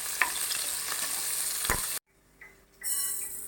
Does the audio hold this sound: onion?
yes